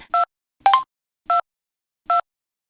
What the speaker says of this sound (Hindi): ये मोबाइल है, इसमें तो बटन भी है। मैं दबा दूंगा है ना।